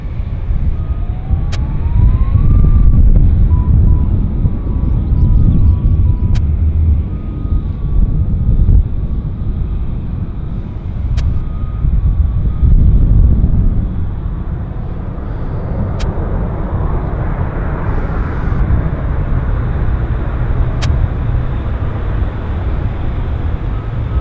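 WestJet airliner arriving at Vancouver airport, a broad rumbling roar with wind buffeting the microphone, swelling and easing over the whole stretch.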